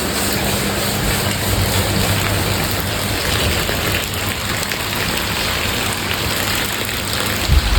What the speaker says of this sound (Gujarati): બહાર વરસાદ ચાલુ થઈ ગયો